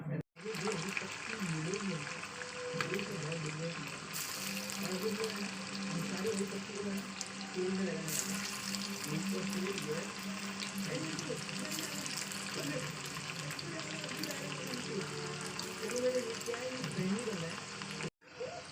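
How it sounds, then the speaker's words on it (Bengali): Balls of meat chop fry in hot oil over a low gas flame, giving a continuous crackling sizzle throughout, close and fairly quiet. "আমি একে একে প্রথমে বলগুলোকে ভেজে নেবো"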